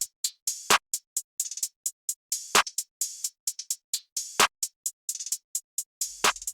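Drum beat of closed hi-hats and a snare with open hi-hats added, longer sizzling open hats landing about every two seconds over the steady ticking pattern, dry and up front with no voices.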